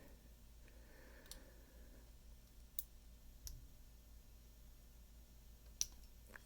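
Sparse, faint clicks from the pins of an American Lock 1100 padlock being picked with a standard Peterson hook and a wiper-insert tension tool, a handful of soft ticks spread out over a quiet background.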